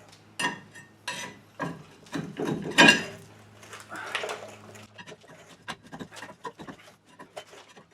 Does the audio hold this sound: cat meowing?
no